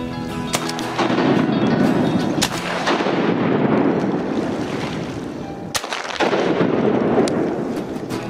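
During a spring turkey hunt in Georgia, a shotgun fires with a loud, sharp blast, set among booming, rumbling noise and several other sharp cracks.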